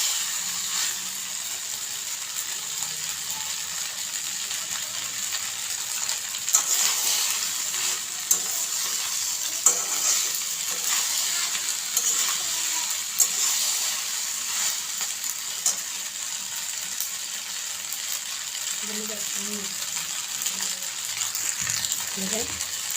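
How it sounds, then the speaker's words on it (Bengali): Pasta with masala for egg pasta frying in a pan, a steady hiss of sizzling throughout with occasional light stirring taps and a few soft clinks near the end. "এখন এই মশলার সাথে পাস্তাগুলিকে আরও 2 থেকে 3 মিনিটের মতো ভেজে"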